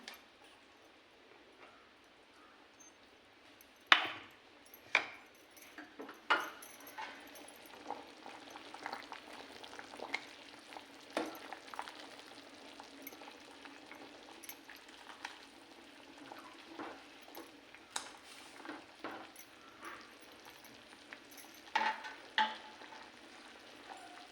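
Chicken curry simmering and sizzling in a pan on a home stove, a soft steady bubbling hiss broken by scattered clinks and stirring taps, quiet and close with no talking.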